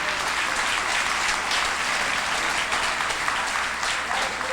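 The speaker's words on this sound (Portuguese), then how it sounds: "Vamos aplaudir nosso Deus." Church congregation applauding during a Portuguese-language worship service, a dense, continuous wash of clapping at close range, steady throughout with no voices over it.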